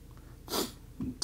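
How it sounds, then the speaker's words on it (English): A single sharp sneeze bursts out close by in a quiet room, followed by a brief snort-like breath and a faint start of another. "Sorry, I had sneezed about 10 times."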